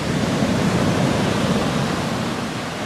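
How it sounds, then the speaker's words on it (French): Indian Ocean waves break on a sandy beach as a steady, full roar of surf and rushing foam, close and loud throughout with no voices. "les vagues se forment."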